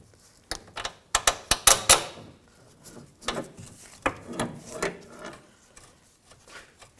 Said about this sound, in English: Use the pry bar. Just try to get that bolt to line up.